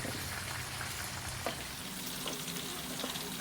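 Fish frying in hot oil, a steady broadband sizzle with crackling pops, loud and continuous with no talk.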